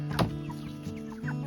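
Cornish cross chickens inside a chicken tractor give a few soft, close clucks and murmurs, one sharper call near the start, over a low steady background hum.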